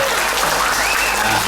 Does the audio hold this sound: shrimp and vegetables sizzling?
no